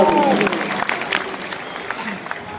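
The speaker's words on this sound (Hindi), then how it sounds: "मैं चाहता हूँ एक बार और सारी जो संघ है जोर से तालियां बनाए" A crowd applauds steadily at a saints' gathering in Talkatora Stadium, New Delhi, the clapping blending with a few voices and gradually thinning out.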